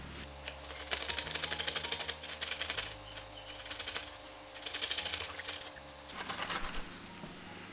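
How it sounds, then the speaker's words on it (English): Whole ripe tomatoes rubbed against a box grater for pan con tomate give a steady, rhythmic rasping, with quick scraping strokes repeating close up in bursts and no talking. "I'm gonna grate a tomato."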